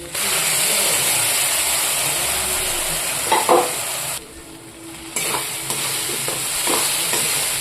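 Sesame seeds fry in a pan with fried onion paste, a steady sizzle, stirring scrapes cutting in now and then, and the hiss briefly dips midway.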